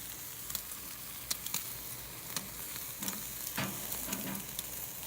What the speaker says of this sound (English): You're gonna hear a sizzle, and they're gonna start to sizzle like crazy